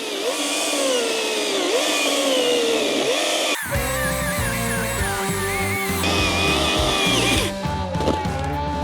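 A ProCraft PCA42/2 cordless chainsaw whines at speed, then bogs into a steady, loud, gritty cutting roar as it bites through a log, easing off briefly before the cut ends.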